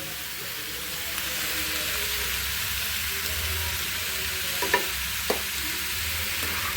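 Flat beans with green tomato stir-fry in a pan, a soft, even sizzle and hiss running throughout, broken by a few faint clicks of the utensil near the end.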